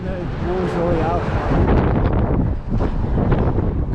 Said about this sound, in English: Really windy today. We're gonna hear that.